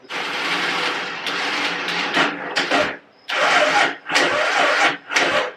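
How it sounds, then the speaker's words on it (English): A Polaris Outlaw ATV's starter cranks the engine on low batteries with a weakly engaging starter, giving several loud grinding bursts of a few seconds each, cut by brief pauses, with no talking. "It's almost like the starter's not engaging how it should be."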